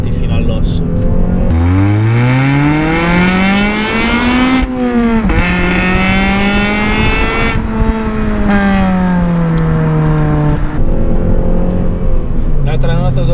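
A Honda Civic Type-R FN2 VTEC engine screams loudly through repeated climbing revs toward the limiter, with sharp shifts between pulls and a voice talking over it.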